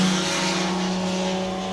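HWM Jaguar race car sliding at Goodwood, a loud, close engine drone holding a steady tone for a couple of seconds.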